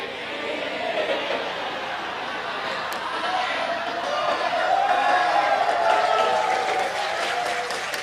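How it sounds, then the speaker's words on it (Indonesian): Sustained audience applause at a religious sermon (ceramah) by KH Anwar Zahid, a broad wash of clapping from a crowd that swells slightly midway and holds steady for several seconds. "Nggak usah tepuk tangan, nggak lucu."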